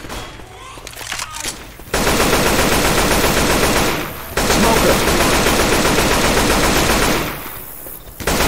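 Rapid automatic gunfire in Left 4 Dead 2 hammers in long loud bursts, separated by a couple of brief pauses, with dense continuous rattling filling most of the stretch.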